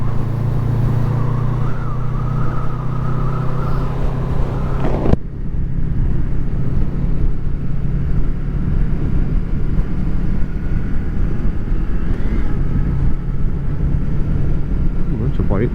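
A Honda VFR800 motorcycle with a quick shifter on a road ride gives a loud, steady engine drone with wind rush and a rising whine, then a sudden change around a gear shift before the engine settles into a rougher, continuous roar.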